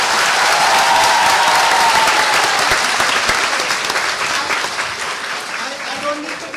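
An event audience at a women's self-defense graduation gives a loud round of applause to welcome guests, dense and sustained, easing slightly toward the end.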